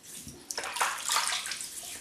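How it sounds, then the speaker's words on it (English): Soapy Palmolive water splashed onto a face before shaving, giving two seconds of close, continuous wet splashing and dripping with no voices. "I'm just going to wet my face with the same soapy water."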